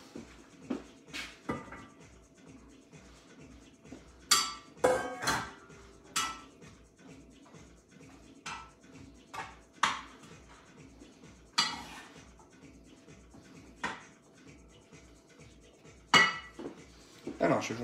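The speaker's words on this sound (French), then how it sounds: "on prend ces poivrons qu'on va mettre dans la casserole" Metal pans and utensils clatter and clink in irregular bursts as peppers go into a saucepan, with a faint low voice murmuring underneath.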